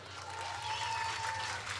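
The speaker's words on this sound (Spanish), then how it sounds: "un aplauso para Diego" Audience applause on a music talk show, a short, even wash of many hands clapping together at moderate loudness, with a faint tone running beneath it.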